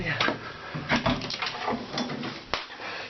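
The door of a small boiler room housing a Feniks solid-fuel boiler is opened, giving a series of close scrapes and knocks while someone talks over it.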